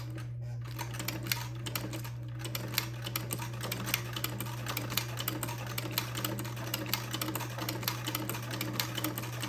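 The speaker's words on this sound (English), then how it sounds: "drop my presser foot, and then proceed to make another buttonhole." Sewing machine fitted with a buttonhole attachment stitching a buttonhole on a baby's day gown, a fast steady mechanical rattle with dense regular needle strokes running continuously over a low constant motor hum, fairly close.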